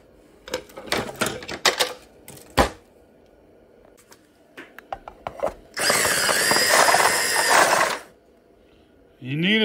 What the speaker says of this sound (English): so we need to drill a hole.